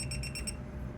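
Small handheld non-contact voltage tester giving off a rapid, steady beeping pulse, several short high tones close up and fairly quiet, with no voices.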